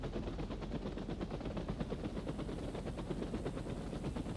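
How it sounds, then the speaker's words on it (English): Explosion effects in the video game Planet Coaster 2 rattle on in a dense, continuous barrage of rapid bursts and crackles, a steady mid-level roar lasting several seconds with no talk. "So it kind of all explodes around here as well. Got some more explosions over there."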